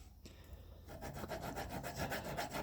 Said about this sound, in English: you need a fairly fine file like this